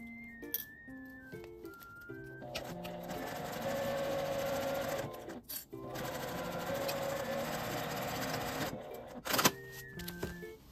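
A sewing machine stitches a Daiso aluminum sheet for an insulated cooler bag, running in long steady whirring bursts with brief stops and start-stop pulses between, close and fairly loud with no talk.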